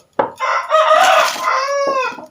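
A single loud rooster crow rings out close by in the morning, a long cock-a-doodle-doo rising and trailing off, with no talking over it.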